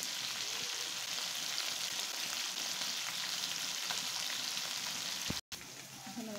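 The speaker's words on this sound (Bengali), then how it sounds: "এখানে মাছ ভাজি চলছে।" Fish frying in oil gives a continuous dense crackling sizzle at even loudness, broken by a brief dropout near the end, with no talk.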